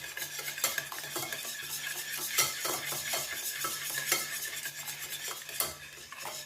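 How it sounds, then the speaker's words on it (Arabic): Cake batter with sugar, for an apple and lemon cake, is stirred in a bowl, giving repeated soft scraping strokes in a steady rhythm, close and fairly quiet with no talking. "وغنخلطو هاد المكونات مزيان."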